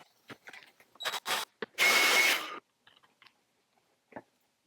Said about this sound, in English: I put a drill bit through the back side, and it stops at the block